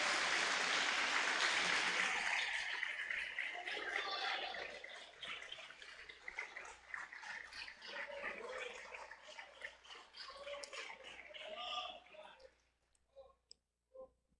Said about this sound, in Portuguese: Aplauda o Senhor, louve o Senhor